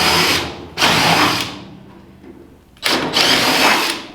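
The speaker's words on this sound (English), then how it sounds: "now I'll pre-drill that mark" A power drill whines loudly in two bursts while pre-drilling wood, spinning up briefly, pausing, then running again for over a second, close by.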